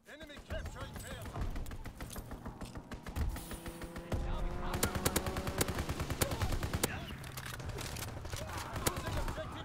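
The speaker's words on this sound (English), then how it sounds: "Strafing run inbound!" A strafing run tears through a shooter video game as dense rapid bursts of gunfire, growing heavier midway, with game voice callouts over the shooting.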